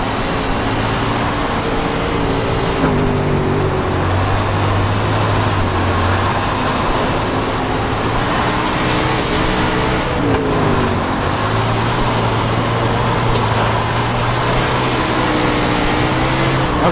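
Engine of an 850 horsepower dirt car in the iRacing sim, a loud continuous roar with the pitch rising and falling through gear changes and throttle lifts, steady and close throughout with no talking.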